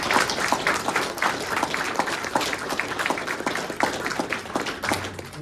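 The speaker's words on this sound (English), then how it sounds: "And we need to give him a round of applause." An audience at a Wilmore city council meeting applauds, a lively, fairly dense spread of hand claps with distinct individual slaps, continuing steadily throughout at moderate loudness.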